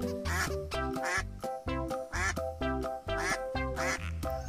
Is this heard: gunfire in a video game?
no